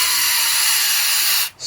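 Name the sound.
spraying cleaner through a Kawasaki KZ400 carburetor channel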